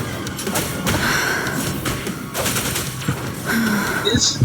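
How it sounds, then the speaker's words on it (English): A C4 explosion from Snake in the Super Smash Bros video game, with rapid crackling bursts and thuds that sound like a volley of blasts, mixed with other game effects and a little speech. "Snake would detonate C4 and then take the stock with a Meta Knight"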